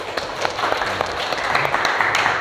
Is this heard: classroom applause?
yes